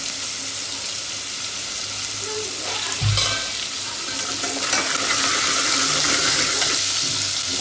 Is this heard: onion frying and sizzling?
yes